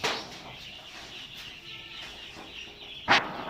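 Hens leave their brooding pen with low, scattered clucks and soft calls at close range, then one sharper, louder squawk near the end.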